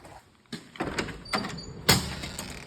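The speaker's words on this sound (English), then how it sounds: "This one's a pull open door." A pull-open door slides and rattles open in a building, with several clunks and a sharper bang near the end, heard fairly close and without talk.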